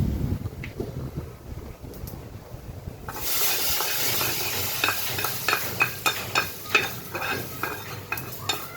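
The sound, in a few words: vegetables added to the tempering and stirred in the pan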